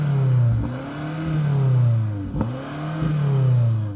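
BMW X6M engine revving in repeated bursts, each rev climbing and then falling back. The engine is heard close and loud, with a sharp crackle around the middle of the run and no talking.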